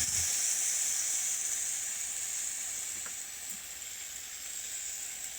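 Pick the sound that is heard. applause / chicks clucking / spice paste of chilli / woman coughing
spice paste of chilli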